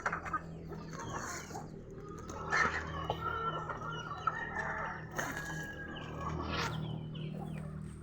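Caged chickens with chicks cluck steadily at close range, with a rooster-like call standing out now and then over a low background hum.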